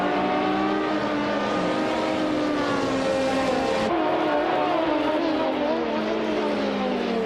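A Toyota Celica Turbo engine in a racing video game holds a steady, high, buzzing drone at speed, loud and close, with one sharp shift partway through and no talk.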